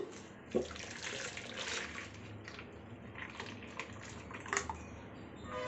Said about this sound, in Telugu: ఇప్పుడు ఈ బౌల్లోకి ఈ నెట్లోకి వడగట్టుకుందాము